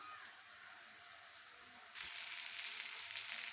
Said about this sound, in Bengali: আমার বেগুনটা প্রায় ভাজা চলছে, অনেকটাই ভাজা ভাজা হয়ে এসেছে